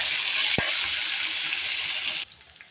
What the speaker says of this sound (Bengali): দিয়ে পেঁয়াজটা ভালো করে ভেজে নেব।